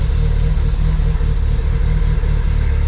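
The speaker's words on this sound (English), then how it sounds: "so let's do a cold start. The car is on straight E85 right now" A car engine running on straight E85 just after a cold start on a hot summer day, a loud, close, steady low rumble with an even idle pulse and no voices.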